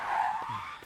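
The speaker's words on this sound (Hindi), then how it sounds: "अरे ये तो पूजा की गाड़ी है" A car skids and screeches to a halt in a comedy film scene, one short sustained tire squeal up front, loud and settling into a low rumble as it stops.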